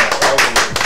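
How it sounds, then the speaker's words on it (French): A studio audience on a French-language TV2 variety show applauds a man on set, with quick rhythmic clapping swelling in short bursts of under a second. "Monsieur, merci de l'applaudir."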